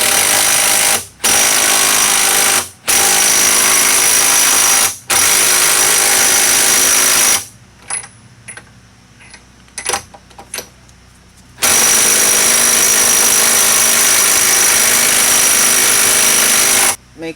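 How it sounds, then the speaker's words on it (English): An impact gun tightens ARP extended front wheel studs on a 2002 Subaru WRX, firing four loud, close rattling bursts separated by brief pauses, then a few seconds of quiet workshop clatter before a final long burst. "Then take my socket, impact gun, put it on there. Make sure it's going in straight the best you can, and then tighten it down."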